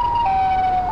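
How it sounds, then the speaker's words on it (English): A wailing siren in the GTA 5 video game, a Siren Head monster's call, sounds as a steady, fairly loud tone that shifts pitch slightly in a short burst. "It's kind of far, but I hear the siren."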